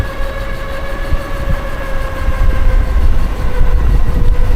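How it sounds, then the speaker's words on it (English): Steady roaring wind noise while riding an Aipas A4 500-watt e-bike outdoors, a loud continuous broadband rush with faint tonal hum from the motor, building slightly louder toward the end. "Boy, this wind is crazy."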